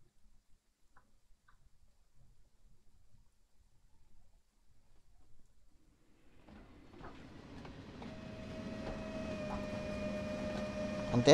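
A train approaches in the Train Sim World simulator on the Hagen–Finnentrop route, faint at first and then rising into a steady rumble with rhythmic rail clicks and a sustained tonal whine, growing louder toward the end.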